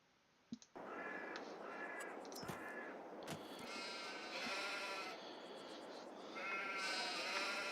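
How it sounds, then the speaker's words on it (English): Sheep bleat repeatedly in Farming Simulator 22 on the Ebony Island map, several animals calling in overlapping, sustained cries over a steady farmyard background, with a couple of sharp clicks near the start. "Sheep."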